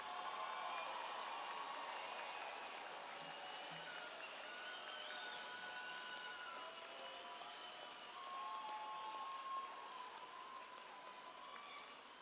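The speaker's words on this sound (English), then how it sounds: "Let's have a round of applause for our 2023 master's degree candidates" Graduation ceremony audience applauding master's degree candidates at a spring commencement, a faint, distant, rain-like wash of many hands clapping that holds steady for several seconds.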